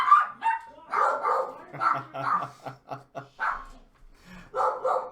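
Several dogs bark and yip in short, loud bursts through most of the stretch, with a few brief pauses, heard indoors.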